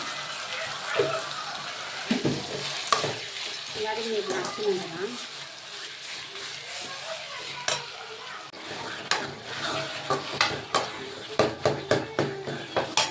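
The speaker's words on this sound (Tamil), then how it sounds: "பச்சை மிளகாய் போட்டுக்கலாம். நல்லா வதக்கலாம்." Green chillies sauté with salt in a pan, making a constant sizzle that is broken by frequent clinks and scrapes of stirring, which grow quicker toward the end.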